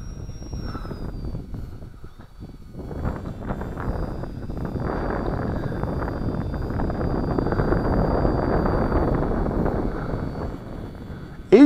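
Small XK DHC-2 A600 RC airplane motor droning steadily as throttle rises, a faint high whine over broad wind-buffeted noise that swells and holds at moderate loudness outdoors.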